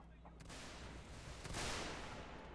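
Gunfire in the Federal Fighting Force North & South mod, with dense, faint overlapping shots and a couple of sharper bursts crackling under a steady background rumble.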